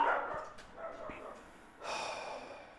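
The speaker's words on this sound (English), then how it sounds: "The dogs are barking." Dogs bark in short bursts, one near yelp at the start and a louder burst toward the end, with faint breathing between; no one speaks.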